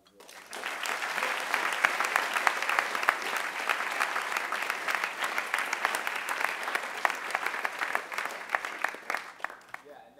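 A school assembly audience applauds in a steady, dense burst of clapping that lasts several seconds before tapering off, with no talk over it.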